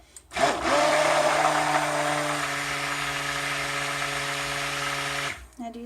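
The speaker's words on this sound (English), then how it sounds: "let's give it another blend," A stick blender whirs steadily through liquid castile-style soap, a strong sustained motor hum with harmonic tones lasting about five seconds before cutting off.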